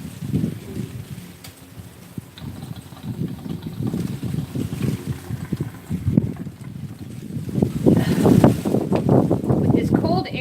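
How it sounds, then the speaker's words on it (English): Cold, strong outdoor wind buffets and rumbles in uneven gusts, growing louder toward the end, while a person talks over it. "With this cold air and all this freaking wind, I can't keep it hot."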